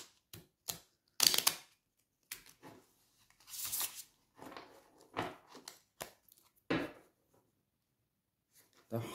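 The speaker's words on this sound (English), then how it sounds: "Three shuffles." Tarot cards being shuffled by hand during a psychic reading, a series of short, crisp riffling and tapping bursts separated by quiet gaps, close and fairly soft overall.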